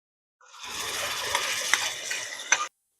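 A cup of garlic paste hits browned onions frying in a pan for crab curry, setting off a loud, close burst of hissing sizzle that lasts about two seconds, with a couple of small clinks before it stops abruptly.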